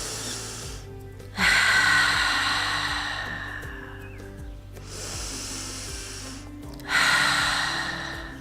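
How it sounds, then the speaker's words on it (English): Ujjayi ocean breath during outdoor yoga in a park: two long, loud breaths drawn in through the nose and pushed out through the mouth, each a rushing, wave-like hiss that swells sharply then slowly fades, close to the listener. "the breath becomes a sound, kind of like ocean breath, ocean waves"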